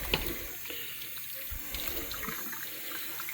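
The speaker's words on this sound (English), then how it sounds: "all I do to do that is pour it out, kind of rinse it a little" A clear glass being rinsed under running tap water at a sink, a steady low splash and trickle with no talking.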